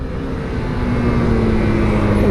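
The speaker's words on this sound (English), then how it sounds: "Now I'm going full throttle." A Honda Xblade commuter motorcycle at full throttle, a steady loud engine drone with the pitch climbing slowly as it accelerates, with wind noise and no talking.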